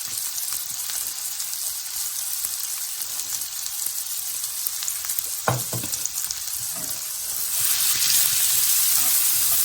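Small diced shallot hits a hot pan that already holds browned bits, and the steady sizzle swells into louder, brighter frying that continues to the end.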